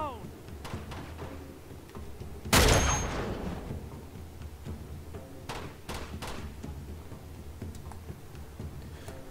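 Gunfire in Uncharted 2: Among Thieves: one loud, sharp shot with a decaying tail, followed by faint scattered ticks and thumps at a low level.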